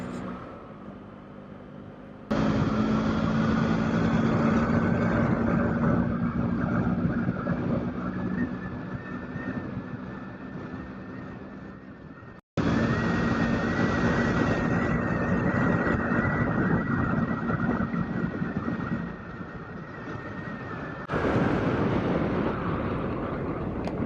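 A motorcycle ridden on a new bike at night, with a steady engine drone and rushing wind noise that rise and fall in long sustained stretches, broken by a brief cut partway through.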